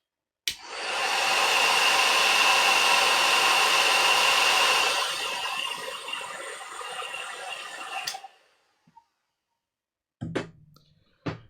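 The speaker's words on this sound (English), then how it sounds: "make a noise now with my hairdryer" A hairdryer switches on close by and blows with a loud, steady whooshing hum for several seconds, then cuts off, followed by a few clicks and bumps.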